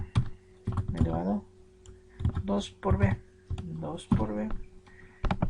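Clicks of typing MATLAB commands on a computer keyboard come in short bursts between stretches of a man's speech, fairly close and modest in level.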